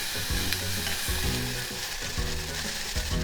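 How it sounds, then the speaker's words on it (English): Chopped scallions fry in oil in a pan for tantanmen, a loud steady sizzle with rhythmic stirring strokes scraping through it, no voices. "we're gonna fry like this until the volume of the scallion is less than a half of this"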